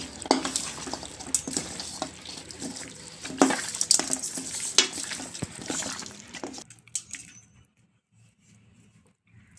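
Garam masala being stirred into a mutton drumstick curry in a pot, a close, steady wet scraping and bubbling with spoon knocks that stops abruptly, leaving near silence at the end.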